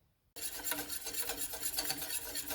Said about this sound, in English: Keep stirring until it thickens up.